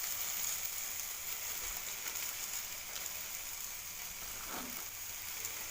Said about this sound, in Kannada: ಸ್ವಲ್ಪ ಎಣ್ಣೆ ಹಾಕಿ ಬಾಡಿಸ್ತಾರೆ.